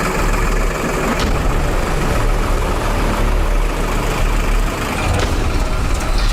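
A tractor engine runs during training for a tractor parade, giving a loud, close, steady rumbling idle with a rough low throb that continues without a break and without any talking.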